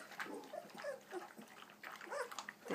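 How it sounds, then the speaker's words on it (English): Seventeen-day-old puppies from a litter whimpering and squeaking, several thin high cries overlapping in quick bursts, close and fairly quiet. "There's the puppies."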